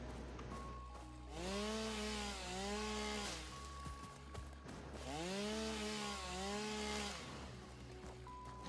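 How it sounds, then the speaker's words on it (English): Chainsaw sawing in the factory-building video game Satisfactory, two long bursts of revving saw with rising and falling whine, each lasting about two seconds, separated by a lower idle, steady and loud with no voices. "all I'm hearing is chainsawing over and over, and it's drilling into my head"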